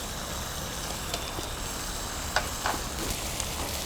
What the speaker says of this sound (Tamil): இப்போ நம்ம ரெண்டாவது பேட்ச் போட்ட மட்டன் ஸ்டாக் எல்லாமே கொதி வர ஆரம்பிச்சிது